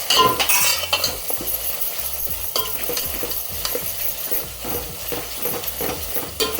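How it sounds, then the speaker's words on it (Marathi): Ginger-garlic paste is stirred into pavta beans frying in a pan, with a steady sizzle under repeated scraping strokes of a spoon against the pan, close and moderately loud, with no talking. "अद्रक लसूणची पेस्ट घालते, अजून थोडं एकजीव करते, पावट्यामध्ये मिक्स करून घेते"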